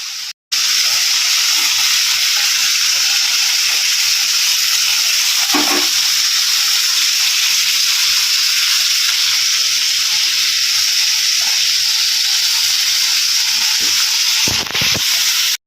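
Fish curry (jhol) cooking in a pan, a continuous bright sizzle and hiss holding steady for the whole stretch, with a brief utensil clink partway through and near the end.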